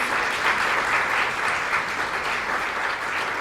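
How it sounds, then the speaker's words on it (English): A university panel audience gives the panelists a sustained, dense round of applause, loud and even for the whole stretch with no pauses. "if you can join me in giving a round of applause to our esteemed panelists and Doctora Marcela Ramirez"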